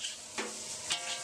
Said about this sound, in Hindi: भुन गया अदरक और लहसुन, नमक स्वादानुसार